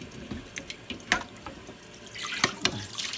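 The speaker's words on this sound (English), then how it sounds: "the water's running" Tap water runs into a kitchen sink while vegetables are rinsed, a soft splashing stream broken by uneven spatters and sharper splashes as the produce is handled under the flow.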